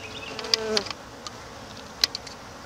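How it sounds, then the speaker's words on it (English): Honeybees buzzing close by as they clean each other off, a steady faint hum broken by a few brief louder buzzes as individual bees fly past. "The bees are cleaning each other off."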